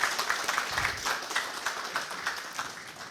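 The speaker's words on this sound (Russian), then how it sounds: "Аплодисменты Андрею Хомяку." An audience at a cooperative conference applauds Andrei Khomyak: dense, sustained clapping from many hands, fairly close, continuing steadily without pause.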